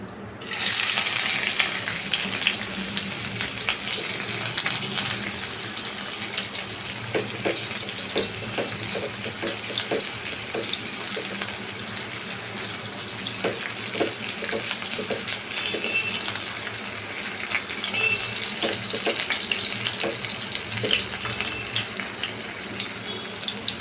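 Chopped onion frying in hot oil in a pan over a low to medium flame, a steady loud sizzle and crackle that runs unbroken for over twenty seconds, with no talking.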